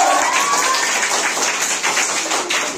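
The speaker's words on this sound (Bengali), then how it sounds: "জোরে হাততালি হতে হবে।" An audience claps and applauds for the winning team at a quiz contest, with dense, steady clapping from many hands sustained throughout the clip.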